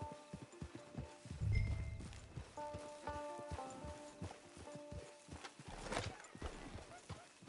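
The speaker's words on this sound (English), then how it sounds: "Get your horse." Horse hooves clip-clop steadily at walking pace in the Red Dead Online game, close and moderately loud, with a snort or whinny and occasional speech over a quiet background.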